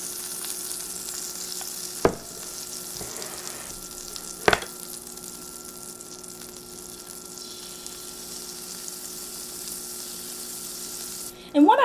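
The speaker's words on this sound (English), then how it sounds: "You can hear it sizzling." Turkey sourdough sandwich toasting in a pan, giving a steady, close sizzle throughout with a couple of sharp clicks and a brief scrape near the end.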